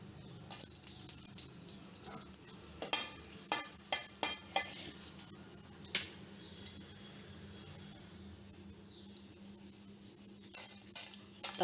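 Tempering seeds dropped into hot oil in a pan crackle and sizzle in sporadic bursts, with faint stirring clinks over a low steady background.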